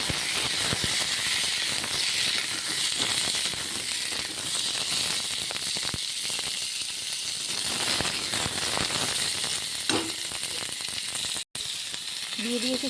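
Dried red chillies and panch phoron spices sizzle and crackle loudly in hot oil, a continuous dense frying hiss that runs throughout with a momentary break near the end.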